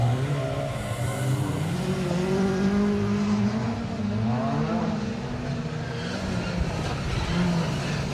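A 1400 Ford Focus rally car passes on a circuit rally stage, its engine revving and swelling as it goes by, with a commentator talking throughout.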